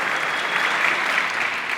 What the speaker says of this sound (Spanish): Un aplauso para Natalie.